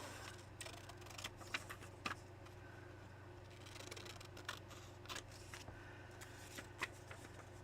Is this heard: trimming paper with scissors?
yes